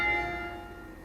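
A single church tower bell, pulled so it swings full circle, rings with one loud strike whose metallic tone slowly fades, with no other sound around it.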